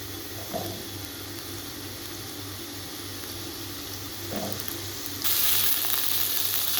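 Potatoes frying in a few spoonfuls of oil for aloo bhujia, a steady soft sizzle throughout with a couple of light stirring knocks, growing brighter and louder near the end.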